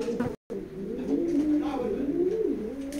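Racing pigeons coo repeatedly in a loft, a steady low warbling murmur with overlapping calls, close and fairly loud, broken by one brief gap.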